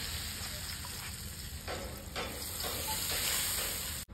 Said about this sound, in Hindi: अब इसके अंदर हम डालेंगे तेल।